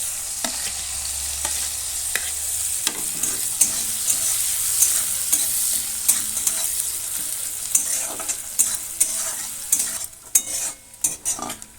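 Whole peppercorns, cardamom and cloves with chopped onion sizzle and crackle steadily in hot oil in a pan, with scraping stir strokes and utensil clinks throughout and no voices.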